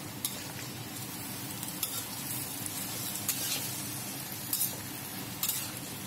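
Yellow noodles fry in a pan with a steady, soft sizzle, joined by a few light scrapes and clinks as they are stirred, fairly quiet and without voices.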